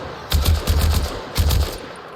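Automatic gunfire in a tactical shooter video game comes in three short controlled bursts of rapid shots, loud and close, with brief pauses between them.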